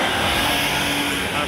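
A silver Mercedes-Benz E-Class accelerates at a street car meet in Batel, Curitiba, its engine a loud, close, sustained roar that holds steady throughout.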